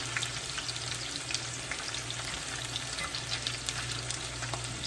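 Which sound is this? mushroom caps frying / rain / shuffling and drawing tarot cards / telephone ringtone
mushroom caps frying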